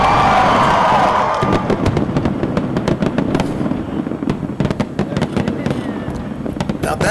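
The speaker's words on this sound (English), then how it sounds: "Now let's start the fireworks." A fireworks show at an outdoor event. Loud, sharp bangs and crackling pops come in rapid bursts after an opening whoosh, with crowd noise and cheering audible in the background.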